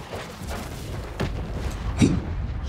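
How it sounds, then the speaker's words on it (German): Explosions in a Call of Duty MW3 Ground War online match: a dense wash of distant booms and rumbling blasts with a sharper thud near the end, continuous and fairly loud, no speech. "Junge, was explodiert denn hier alles?"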